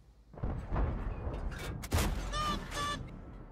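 A tank cannon fires in a tank video game, a Centurion Mk 1, two deep booming shots about a second apart, each followed by a rumbling tail and metallic clanks.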